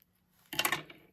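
Scissors snip through a strip of pink satin ribbon while finishing a knot on a handmade birthday card, one short crisp cut after a near-silent moment, close and alone.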